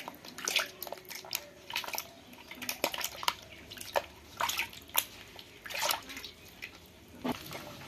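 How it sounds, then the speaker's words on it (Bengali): Flour dough being washed again and again in water by hand: soft wet squelches and splashes arrive in irregular bursts, close by but quiet, with dripping between them. "এবার ময়দাটা ভালো করে জল দিয়ে বারবার করে জল দিয়ে ধুয়ে নেব"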